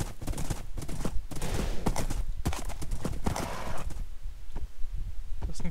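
Horse gallops in Minecraft with a rapid, continuous clip-clop of hooves, loud and close, with faint game noises mixed in.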